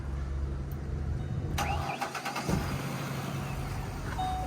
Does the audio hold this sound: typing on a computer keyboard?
no